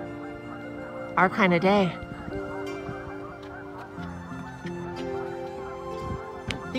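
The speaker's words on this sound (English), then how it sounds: "I think the geese are happy too." Geese honk loudly and close by beside a river on an October afternoon, a short burst of several calls followed by steady background noise, with a person speaking briefly.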